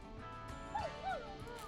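Dog barking in the video game Killer Frequency, two short faint barks against a quiet humming background.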